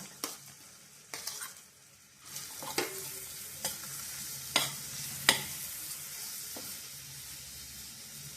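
Onion, green chili, ginger and tomato sautéing in a pan make a soft continuous sizzle broken by several sharp stirring knocks and scrapes spaced a second or so apart.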